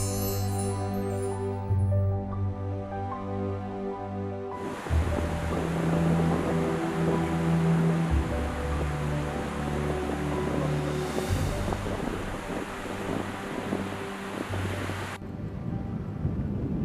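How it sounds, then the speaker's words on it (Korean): Strong sea wind and surf along a coast, a broad roaring rush that rises sharply after a few seconds of quieter tonal background, steady and loud, then eases near the end, with no talking. "오늘은 바닷바람이 거세다가 보니까 막 저 파도 소리 우리를 막 반겨주고 있잖아요."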